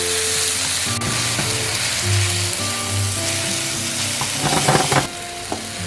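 Tomato going into a frying dhaba-style Bengali mutton kosha curry gives a steady, close sizzle, with light stirring scrapes and clinks near the end.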